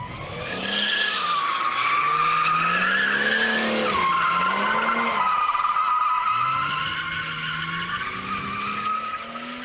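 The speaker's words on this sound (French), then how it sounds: "l'art du drift, c'est de pouvoir maintenir l'auto en glisse" A car drifting on a circuit, tires skidding and squealing in long sustained slides with shifting pitch, engine revving loudly underneath, continuous for nearly ten seconds.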